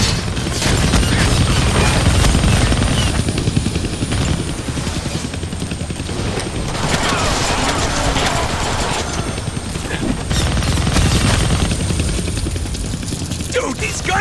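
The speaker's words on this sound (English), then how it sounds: "I can't kill that chopper with my guns," A helicopter's steady, loud rotor roar in the Deadpool video game runs throughout, dense with bursts of gunfire and impacts layered over it, close and unbroken for the whole stretch.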